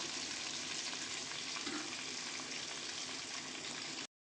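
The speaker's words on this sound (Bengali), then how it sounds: "কিন্তু চর্বির সাথে ভালো করে কিন্তু কষিয়ে নিচ্ছি।" Mutton masala fries in rendered fat as it is worked in the pan, a soft continuous sizzle and bubbling that stops abruptly at the end.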